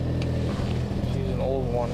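A Volkswagen Passat B5's engine drones low and steady from inside while driving, a continuous rumbling hum with a voice talking over it.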